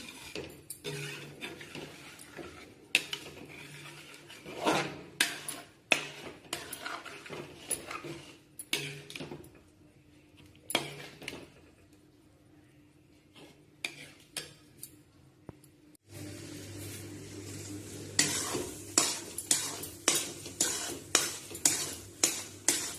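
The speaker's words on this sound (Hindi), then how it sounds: "इस तरह से लगातार चलाते हुए इसको भून लें" Khoa (mawa) roasts in a pan under continuous stirring, with rhythmic spatula scrapes and clinks against the metal over a soft sizzle, a quieter pause midway, then louder steady strokes again.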